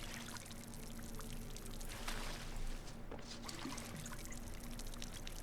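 A watering can pours a steady, continuous stream of water in the game RuneScape: Dragonwilds, heard as a soft trickling wash that runs unbroken throughout at low volume.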